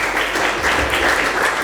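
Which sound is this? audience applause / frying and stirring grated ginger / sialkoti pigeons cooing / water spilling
audience applause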